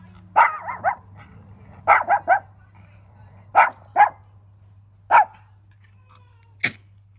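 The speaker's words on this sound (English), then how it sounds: "I told you you'd get a sore throat if you kept barking." A dog barks in short clusters of two or three hoarse, fairly close barks, then single barks spaced a second or more apart, inside a quiet space with a low steady hum underneath.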